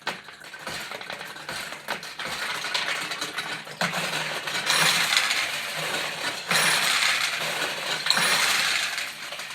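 Vintage 1976 Okumurayuki Monaco Victory pachinko machine launching steel balls, a busy run of metallic clicks, ratcheting and clattering ticks that grows denser and louder as balls drop and pay out.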